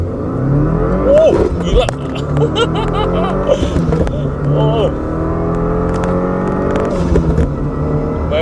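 A manual Subaru WRX with all-wheel drive launches hard from a standstill at 4000 RPM, its engine note rising loud and close through revs as occupants talk and exclaim over it.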